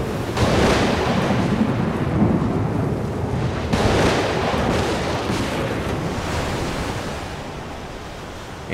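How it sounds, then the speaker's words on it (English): A violent thunderstorm breaking over the English Channel in early June, with thunder and heavy rain forming a loud, continuous roar that swells with rolling rumbles near the start and again around the middle, then eases slightly. "On June the 4th, as the ships based in the north of England were heading for the Channel, a violent storm broke."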